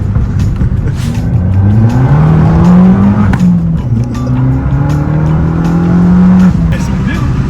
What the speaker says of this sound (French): J'aime bien ce petit bruit quand tu arrêtes d'accélérer